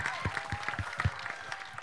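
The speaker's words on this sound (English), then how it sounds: "So big round of applause for Ajay, please." Scattered clapping from an event audience at a film trailer launch, quiet and somewhat distant, with irregular individual claps rather than a full ovation.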